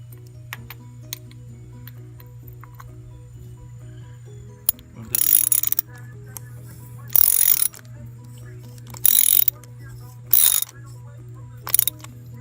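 A ratchet clicks in short bursts while snugging a new spark plug into a 2002 Volvo S40 engine, with a steady low hum and faint ticking between the bursts.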